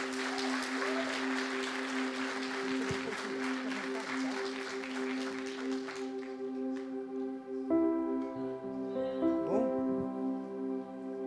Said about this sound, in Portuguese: E você dê uma salva de palmas ao Senhor pela vida dessa jovem.